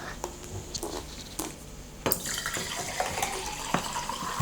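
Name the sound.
sparkling water poured into a glass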